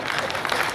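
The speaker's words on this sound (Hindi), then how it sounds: "आपका काम ताली बजाना है।" An audience at a Hindi kavi sammelan poetry gathering in Sujangarh claps in a brief, dense burst of applause, loud and steady for under a second.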